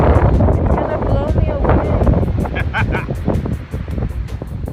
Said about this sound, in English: the winds here are blowing at up to about 20 miles an hour